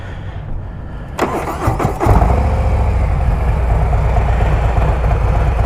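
A Harley-Davidson Street Glide with a Stage 3 119ci kit, torque cam and high-flow air filter cranks briefly with a starter whir, then fires and settles into a loud, steady, lumpy idle close by.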